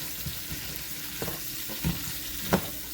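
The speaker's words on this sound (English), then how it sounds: "You're going to saute your beans in your brown butter until they're nice and cooked." Partially frozen beans cook in brown butter, giving a gentle continuous sizzle with a few soft stirring knocks against the pan, close and fairly quiet.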